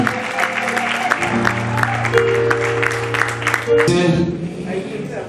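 Scattered clapping from a church wedding congregation sounds over steady held musical tones and voices, with a brief louder burst near the end.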